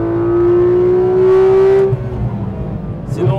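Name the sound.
Porsche GT3 RS engine revving on the Nürburgring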